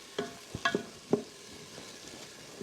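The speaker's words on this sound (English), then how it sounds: "you'll see that the sauteing is now happening" Onions and minced garlic sautéing in a pressure cooker pan, a quiet sizzle with three or four close spoon clinks early on, then a faint steady hiss.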